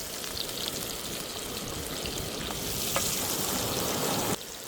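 Garlic sizzling and frying in a hot pan of oil, a steady close crackle with scattered pops that cuts off abruptly just before the end.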